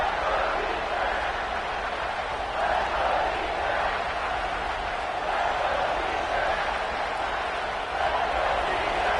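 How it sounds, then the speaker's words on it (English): Crowd noise from a stadium in the NCAA 25 college football video game rises as a steady, loud, roaring wash that swells slightly in waves and stays continuous throughout, with no clear individual voices. "here comes the noise. This crowd is trying to inspire this defense to make a big red zone stop"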